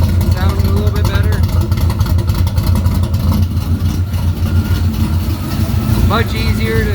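A '69 car engine fitted with a new Holley Ultra Street Avenger carburetor idles slightly high in a loud, steady rumble, with someone talking over it and a brief squeaky sound near the end.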